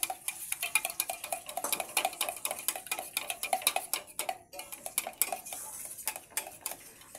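Egg being stirred with salt and turmeric in a bowl for an egg roll, a quick run of light metallic clinks and taps of a utensil against the bowl, close and continuous.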